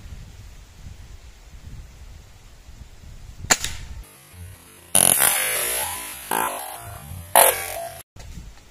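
A Hatsan HT135 gas ram air rifle firing at a can 20 metres away outdoors: a single sharp crack after quiet wind noise, followed by loud rustling and handling noise close to the microphone.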